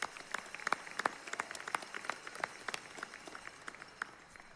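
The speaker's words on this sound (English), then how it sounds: "how about another round of applause for the Mines Choir?" A graduate commencement ceremony crowd at Colorado School of Mines applauds a choir, with dense, steady clapping that fills the hall and fades slightly toward the end.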